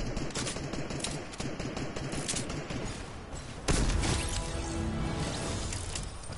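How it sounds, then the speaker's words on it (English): A shotgun blasts in Fortnite, one heavy boom standing out among rapid gunfire and clattering game sounds, loud and close. "5 nanosecond pause there to shoot my shotgun"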